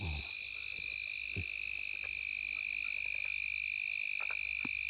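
Frogs croak in a field at night, scattered soft croaks beneath a loud, continuous high insect trill, no talking.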